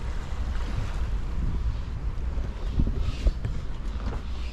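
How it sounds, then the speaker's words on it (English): Water laps softly and steadily against a moored sailboat in a quiet bay, with a low rumble of wind and swell and no voices. "The water's just lapping all morning."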